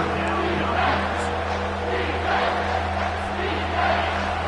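A steady, dense stadium crowd roar fills a college football video game matchup between Alabama and Auburn, swelling slightly in waves over a constant low hum.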